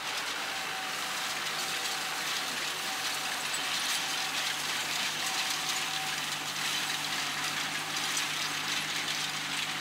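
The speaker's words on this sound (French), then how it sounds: "Voici l'agriculteur sur son tracteur, avec un drôle de tourniquet à l'arrière" A farm tractor with a rotary rake on the back runs steadily at a distance, a low, even engine drone with a faint hum and no voices.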